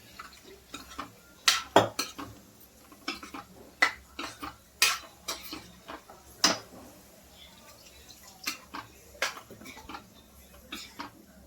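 A spoon stirs boiled, chopped potatoes with salt and water in a metal pan for potato gravy, giving sparse, irregular metallic clinks and scrapes, some sharp and close, against a quiet background.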